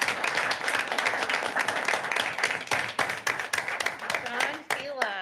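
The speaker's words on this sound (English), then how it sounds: "I have to applaud that." Applause at a general board meeting, a dense round of clapping from an audience that carries on steadily and then thins out toward the end, with some voices mixed in.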